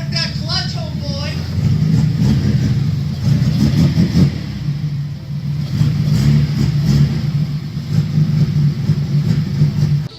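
A Datsun 280Z engine runs and revs in surges close by, rising and falling through the clip under a steady roar, with voices talking over it in a workshop setting.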